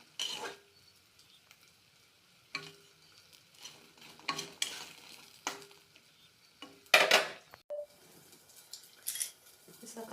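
Chillies and garlic fry in a pan with a faint sizzle, broken by intermittent scraping stir strokes and light clinks of the utensil against the metal, quiet and close.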